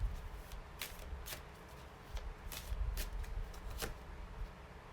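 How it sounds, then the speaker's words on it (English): Tarot cards are shuffled and handled close up with soft riffling flicks and a few sharp snaps as a card is pulled out, quiet, with no talking. "Let me pull out a card on top of those two."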